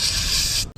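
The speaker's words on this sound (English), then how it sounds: "I'm just gonna spray some brake clean" A can of brake cleaner sprayed into the gunky crankcase ventilation area of a BMW E36, a close, loud steady hiss that cuts off abruptly after under a second.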